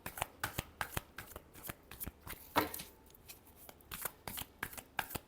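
Tarot cards being shuffled by hand, a quick series of crisp riffling snaps and slaps, close and fairly soft, repeating in an uneven rhythm.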